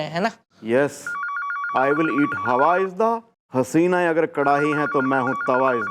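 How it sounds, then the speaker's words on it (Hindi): A telephone rings with a repeating electronic warble that continues steadily beneath several people talking, loud and close throughout. "फोन उठाओ फटाफट"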